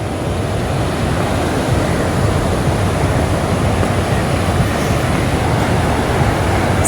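Steady, loud roar of sea waves breaking on rocks along the coast at Galle, Sri Lanka, a continuous broadband wash with no voices.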